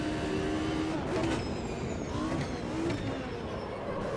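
Race car engine in the Automobilista 2 sim racing game, a steady droning note with shifting harmonics and brief pitch sweeps through the corners, running continuously without breaks.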